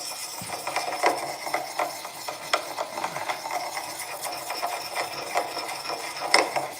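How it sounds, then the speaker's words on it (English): A tool is sharpened with scraping, rasping strokes, a dense run of uneven gritty rubs and small ticks at moderate loudness, close by, with no talking. "We're going to sharpen this right up."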